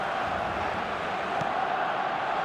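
Steady stadium crowd murmur and roar in the eFootball video game, a dense continuous wash of many voices at even loudness with no distinct cheers standing out.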